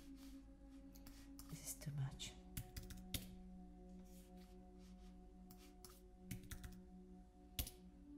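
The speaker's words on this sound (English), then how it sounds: "I will type the information I have just written separately" Quiet typing on a computer keyboard while entering details for a cycling magazine, heard as scattered soft key clicks in irregular bursts over a low steady hum, faint and close.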